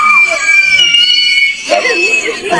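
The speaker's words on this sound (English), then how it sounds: "she took it out of the pot and the plant started screaming" A mandrake plant pulled from its pot lets out a shrill, wavering scream, high and sustained, with a second rising cry near the end.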